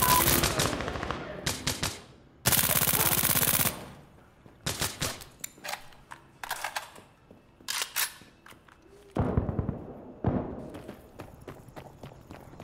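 Gunfire in the shooter game Insurgency: Sandstorm: sharp, loud bursts of automatic fire, one long sustained burst among shorter volleys, with quieter clatter between the shots.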